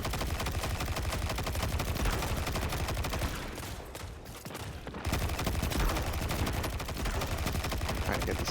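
Rapid, crackling video game gunfire from a scout sniper rifle and surrounding shooters rattles nearly continuously, dipping into a brief quieter gap midway before the loud volleys resume.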